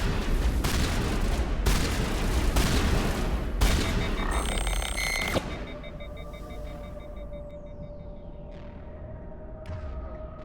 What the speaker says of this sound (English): Sorry if the gun sound effects are really loud, guys.